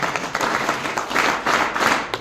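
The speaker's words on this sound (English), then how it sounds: "I want everyone to clap for yourself." An audience of NSS students claps together, a brief burst of applause with uneven surges of hand claps.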